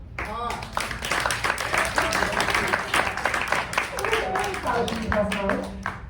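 Steady applause from an audience fills the whole stretch, mixed with cheering voices and shouts over the clapping.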